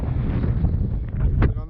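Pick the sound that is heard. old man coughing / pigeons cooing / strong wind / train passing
strong wind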